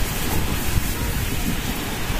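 A storm during outdoor cooking of sinukmani and chicken afritada, with a dense, continuous roar of heavy rain and wind that is loud and steady throughout, without a break.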